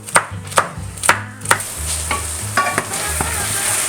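Onion frying in a pan for pollastre amb samfaina, with a soft sizzle running underneath and a series of sharp scraping clacks as a utensil stirs, several at first, then more irregular.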